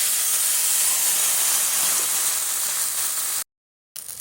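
Ground lentil paste and water hit hot mustard oil in a pan with a loud, close, continuous sizzling hiss that suddenly cuts out, then briefly resumes.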